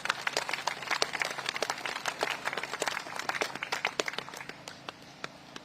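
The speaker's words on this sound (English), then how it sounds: "I think they deserve a huge round of applause." Applause for the Commonwealth Children's Choir at a Commonwealth Day ceremony at the Commonwealth Memorial Gates, a crowd clapping steadily, moderately distant, then thinning out to scattered claps near the end.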